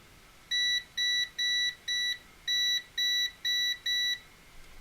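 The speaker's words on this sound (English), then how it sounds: "Beeps." An electronics tester beeps as its two probes are touched together during breadboard work: eight short, clean, high electronic tones in an even rhythm, loud and alone against a quiet background.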